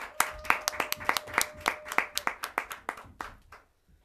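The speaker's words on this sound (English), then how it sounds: "Let's give them a round of applause." A small group claps for spelling bee participants at a school morning broadcast, about a dozen distinct, fairly quick claps close by that thin out and fade over a few seconds.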